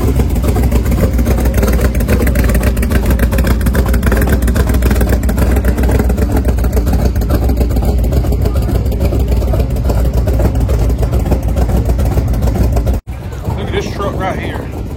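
A vehicle engine rumbles loud and close as it pulls out at a car show, a steady throbbing idle-to-pull sound under people talking, ending abruptly as the sound cuts off.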